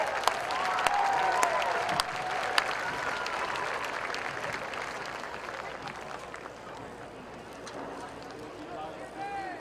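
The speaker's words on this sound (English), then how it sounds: "would you give your 3-year-old World Grand Championship contenders a big round of applause?" An arena crowd at the 2022 Tennessee Walking Horse Celebration applauds three-year-old World Grand Championship contenders, steady clapping that slowly fades, under an announcer's amplified voice.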